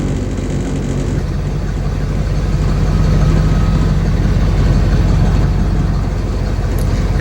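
A truck engine idles steadily just after an oil change, with a smooth, continuous low rumble up close that swells slightly midway before settling.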